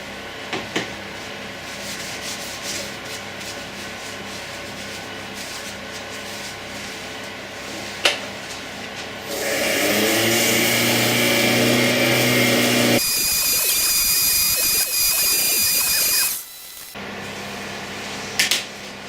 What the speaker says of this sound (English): And now some further sanding with abrasive paste.